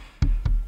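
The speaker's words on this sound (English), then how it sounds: "So the first one here is the kick drum." Kick drum brought up alone in a live sound mix, three deep punchy thumps at an even pace, the second and third following close behind, with faint bleed from other instruments underneath.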